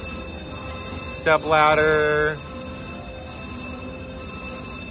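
A Polar High Roller video gaming slot machine at Choctaw Casino rings its win bell in one bright burst of about a second, loud and close over casino murmur, with a brief spoken word nearby.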